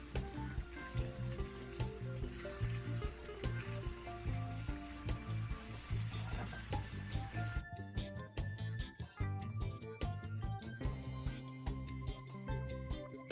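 Celery and peppers fry in a pot for homemade Jamaican-style chili, a steady soft sizzle with clinks and stirring noises under background music throughout.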